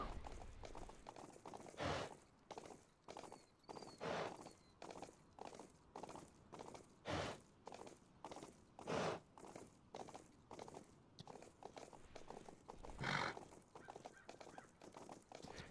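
A horse's hooves clip-clop in the video game Rust, a faint, steady run of soft thuds repeating roughly every second, with no one talking.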